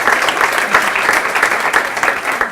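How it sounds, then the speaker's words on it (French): Steady, dense applause from a talk-show audience fills the whole stretch, loud and continuous with no voices rising above it. "Vous pouvez les applaudir"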